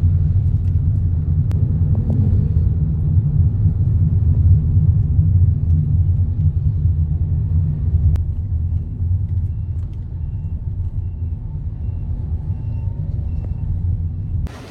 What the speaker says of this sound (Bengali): এই আমার গ্র্যাব চলে যাচ্ছে